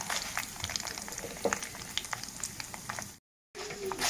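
Spices crackle and sizzle in hot oil for a jujube pickle, a dense close frying hiss dotted with small pops, which cuts out briefly near the end and then resumes.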